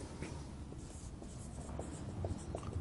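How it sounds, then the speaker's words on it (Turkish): Pen writing on a surface during a Turkish history lesson, a faint continuous scratching with small ticks and strokes over low room noise. "Şuradan kalemimi alayım."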